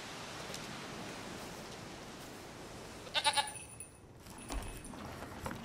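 A goat in The Witcher 3 gives a short cluster of bleats partway through, standing out briefly over steady background noise.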